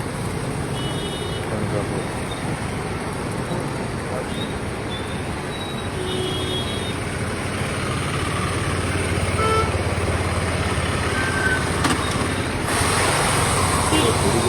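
Road traffic jam in Panjim, Goa, with trucks blocking the road: a constant rumble of idling and passing vehicles, motorcycles and occasional horn toots, with people talking over it throughout.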